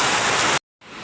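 Steady, dense hiss of heavy rain close by in Xieng Khouang, Laos, cutting out abruptly for a moment before resuming at a lower level.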